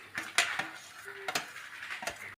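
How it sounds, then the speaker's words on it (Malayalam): Grated coconut dry-roasts in a pan without oil over medium heat, a metal spoon clinking and scraping against the pan in several sharp taps over a faint quiet sizzle; no voices. "കരിഞ്ഞു പോകാതെ നമുക്ക് തേങ്ങ ഒന്ന് വറുത്തെടുക്കാം."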